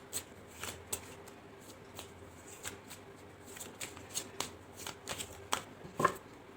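Tarot cards are shuffled close by in soft, papery riffles and taps, irregular and quiet, repeating through the whole stretch with no one speaking.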